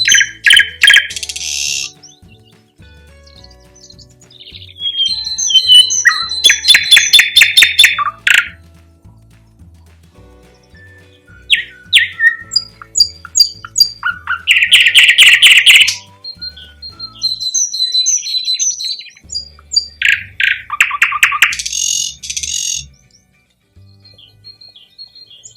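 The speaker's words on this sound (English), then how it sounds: "Bird number 15, the thrush nightingale." Thrush nightingale singing loud and close in repeated bursts of rich whistles, rapid clicking rattles and sharp chirps, separated by short pauses, with no voices.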